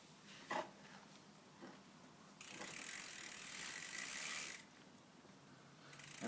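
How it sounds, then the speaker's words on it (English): Someone works on a loose bicycle crank, taking it apart and greasing it, producing a few faint clicks followed by a steady close ratcheting whir that lasts about two seconds and then stops. "that's how you take apart your cranks, and you just put some grease in there"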